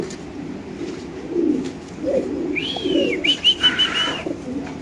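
Pigeons at a large fancy-pigeon farm coo in low soft bursts, then a sharper whistling call and a run of quick fluttering scuffles build close by.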